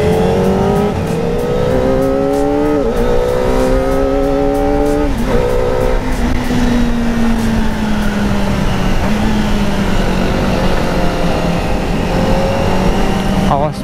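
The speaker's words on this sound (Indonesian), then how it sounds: "Awas mobil." A car speeds along a winding mountain road near Lembang, Bandung, its engine loud and continuous with rising and falling revs and gear shifts, heard close throughout under a steady rumble.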